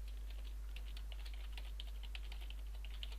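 Someone types a chat comment on a computer keyboard, a quick, close run of light key clicks in an irregular rhythm over a low steady hum, with no talking.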